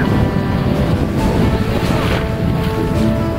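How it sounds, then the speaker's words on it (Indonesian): A strong east wind blows by the sea south of Madura, a loud steady rumbling buffet on the microphone with a constant rush over surf, no voices, continuous throughout. "Hembusan angin di selatan Madura lumayan kencang, angin timur."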